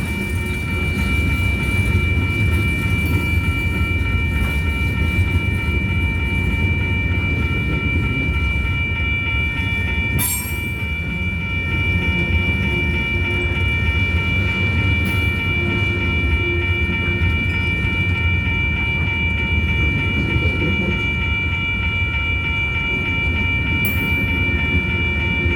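A freight train made up entirely of coil cars rolls past close by, a steady loud rumble with wheel clatter and a sustained high squeal throughout, plus a few sharp clanks along the way.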